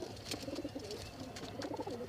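A female Kaldom pigeon coos steadily for about two seconds, a soft, low, rolling warble repeated in quick throaty pulses at close range, with no talking over it.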